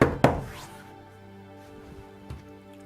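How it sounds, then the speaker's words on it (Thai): Two sharp knocks rap on a door, one loud blow near the start and a softer, single knock about two seconds later, each with a brief ringing decay in a quiet room. "เคาะสะดังเชียว"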